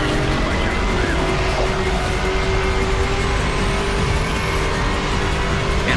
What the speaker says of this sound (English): I haven't used a turbo yet, so I think now is a well-warranted time to use one